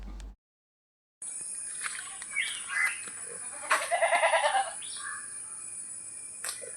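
A young goat kid for sale near Manjeri bleats a few times, including one longer quavering call, against a quiet background with faint rustling.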